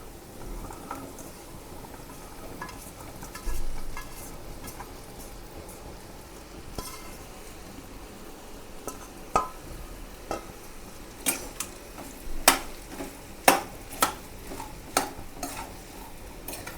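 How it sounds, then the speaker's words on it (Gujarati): Okra and potatoes stirred in a pan as they cook, a soft sizzle underneath with scraping and clinking spoon strokes that grow sharper and more frequent toward the end, no talking. "હવે આપણે મિક્સ કરી દઈશું અને હવે આપણે ભીંડો છે એ નાખી દઈશું બધું જ"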